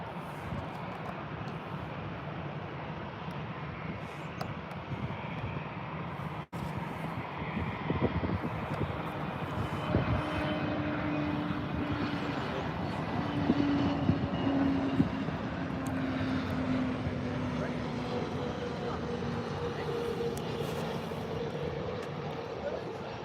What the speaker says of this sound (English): This Pegasus Airlines A320 in from